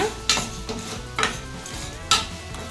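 Green chilies and onion masala are stirred in a pan while cooking a chicken gravy in a cooker, making a soft fry and sizzle broken by three sharp spoon-against-pan scrapes.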